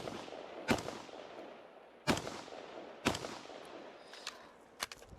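Loud SA80 rifle shots at a shooting competition, three sharp close reports spaced about a second apart, followed by a couple of fainter, more distant shots.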